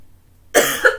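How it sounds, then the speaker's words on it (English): A single adult woman's cough bursts out after half a second of near silence, a sharp close burst followed by a second smaller hack, alone with no talk. "I'm going to cough."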